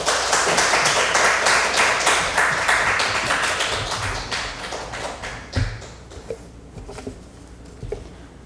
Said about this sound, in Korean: 우리 각자 있는 자리지만 마음으로 열심히 열렬하게 박수로 환영해 주시기를 바랍니다